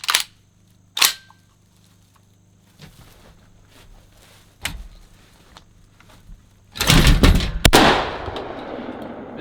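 Panzer BP-12 G2 semi-auto bullpup 12-gauge shotgun fired at clay pigeons outdoors, a few sharp loud blasts spaced apart, ending in a heavy burst with a rolling outdoor echo.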